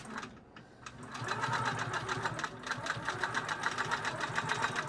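Sewing machine running steadily with larger stitches along a thick quilt seam, backing made from a Costco blanket, a fast even mechanical chatter that starts after a brief pause and continues close and loud.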